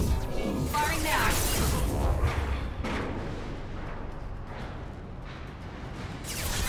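Weapon fire in the sci-fi shooter Mass Effect 2 rumbles as dense, heavy bursts layered with mechanical clatter, loudest in the first few seconds and then settling into a continuous roar, with voices talking over it.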